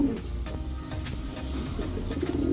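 Long-distance racing pigeons cooing in a loft, soft low coos repeating over a busy background murmur, near and moderate in level.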